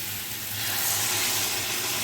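Water hitting a pan of jackfruit and potato masala that is frying in spices, bringing up a sudden hissing sizzle that swells and holds steady for a couple of seconds. No one speaks.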